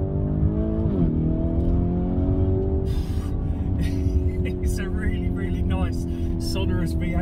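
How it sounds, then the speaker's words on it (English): A Lamborghini Urus V8 with sport exhaust drones loudly and steadily from inside the cabin, its pitch rising slightly and then holding, while someone talks over it throughout. "sonorous V8 sound you get from that. Obviously, it's fitted with the sport exhaust and all that sort of thing."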